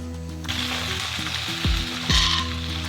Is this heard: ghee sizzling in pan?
yes